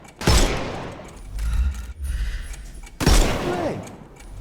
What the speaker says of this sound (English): Shoot off their armor.